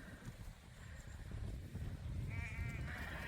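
Sheep bleat at a feeder in a field, a few wavering cries rising over a low rumble of movement and wind, with a louder bleat toward the end.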